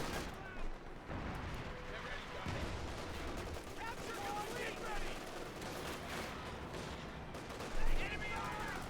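Rapid gunfire and distant explosions crackle through a Company of Heroes 2 battle between German and American forces, with a dense stream of shots and a louder blast near the end beneath a commentator's voice.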